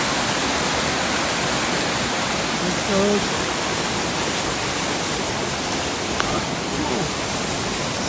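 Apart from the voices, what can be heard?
waterfall in deep snow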